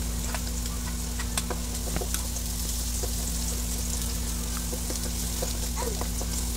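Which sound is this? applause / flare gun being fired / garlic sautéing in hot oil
garlic sautéing in hot oil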